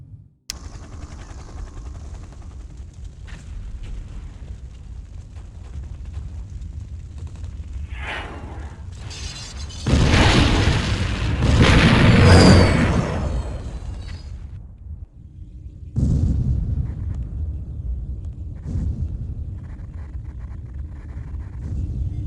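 A temple explodes in a Command and Conquer Remastered GDI cutscene: a loud, roaring blast with deep rumble swells in the middle of the clip and lasts several seconds, framed by quieter rumbling ambience and debris noise.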